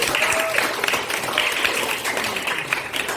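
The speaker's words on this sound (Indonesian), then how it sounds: "Tepuk tangan dulu Pak Ibu." A classroom of students claps during a physics lesson, a brief steady burst of applause with a few voices mixed in.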